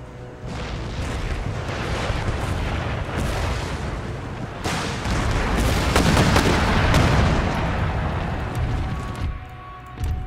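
Artillery fire from a howitzer loosing round shot during a siege battle in Empire: Total War, a dense rumbling barrage of booms and blasts that swells in the middle, loud and continuous with no voices.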